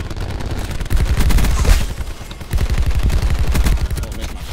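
Rapid automatic gunfire in the shooter game Call of Duty: Black Ops 4, loud and close, in sustained bursts broken by a brief gap, with no speech.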